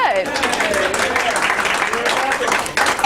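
An audience at a Toastmasters leadership training session applauds in a dense, steady wash of clapping that runs continuously, with voices mixed in.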